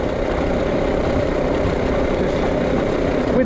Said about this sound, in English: Let the engine cool down going down the hill.